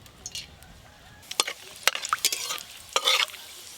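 Garam masala tempering in hot mustard oil with jackfruit cooking, a short, fairly quiet burst of sizzling mixed with scraping and stirring clinks from a pan.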